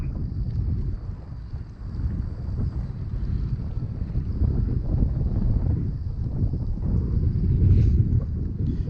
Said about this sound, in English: I'm fishing in some heavy wind